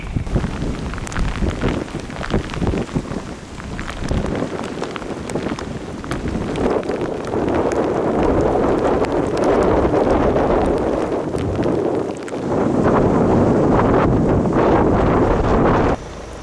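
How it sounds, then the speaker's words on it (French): Steady wind buffets the microphone with a constant roar, rain spattering throughout at a fishing spot; the gusts swell louder toward the end before easing off. "Il y a du vent, il y a de la pluie"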